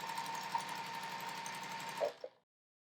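A sewing machine stitches a line across fabric squares for a layer cake quilt, a close, even mechanical whir with a rapid needle rhythm that slows with a couple of clunks and then stops, leaving silence.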